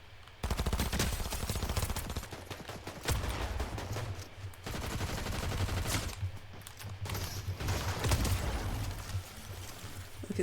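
Rapid automatic gunfire rattles in bursts in Fortnite, loud and dense with brief pauses between volleys, over a low steady game background.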